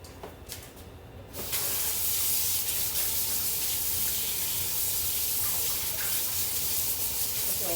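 A kitchen tap switched on after a short quiet moment, then running hard in a steady, loud rush of water into the sink while something is rinsed off.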